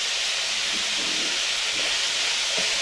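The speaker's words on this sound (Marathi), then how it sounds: "कांद्याला मस्तपैकी असा लालसर रंग आला की थोडंसं तेल टाकतो." Oil sizzles steadily in a pan with browned onions for egg bhurji, a loud, continuous hiss with no break.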